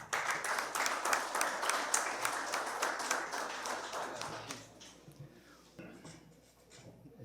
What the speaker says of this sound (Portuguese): com uma salva de palmas, o nosso Gabriel Caputo